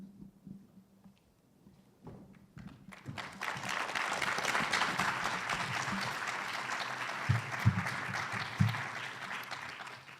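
Audience applause at the close of a debate on God and morality, starting sparse and faint with a few claps, then swelling into a sustained, full round of clapping that holds steady to the end.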